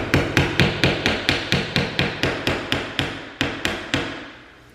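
A hammer strikes sharply in a quick, steady rhythm during DIY house renovation work, about fifteen close, loud blows with brief ringing decay between them, the last few slightly slower.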